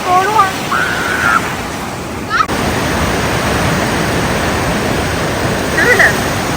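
Broad roar of ocean waves breaking at a surf beach, steady and loud throughout, with brief voices and squeals on top.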